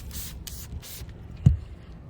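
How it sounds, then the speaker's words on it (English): Three quick hissing bursts of cleaner from a spray bottle onto solar panels coated in paint overspray, close and crisp, followed by a short soft thump. "Little spray."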